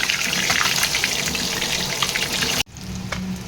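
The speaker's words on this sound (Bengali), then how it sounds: "মাছগুলোকে আমি উল্টে দেবো আর মাছগুলোকে আমি অনেকটা মজমাতে করে ভাজবো" Pabda fish fry in oil in a pan with a strong crackling sizzle that abruptly drops to a much quieter, softer frying sound for the last second.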